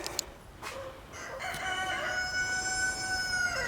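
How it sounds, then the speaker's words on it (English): A rooster crows loudly in drawn-out calls while hens cluck and squawk in short bursts nearby on a small goat farm, with no talk. "But my rogue chickens"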